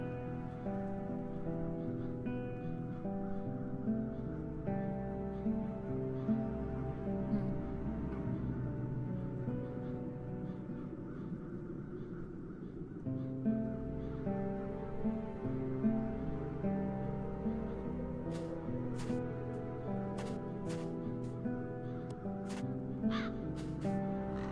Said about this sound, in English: The crows haven't left anything of the town's banner.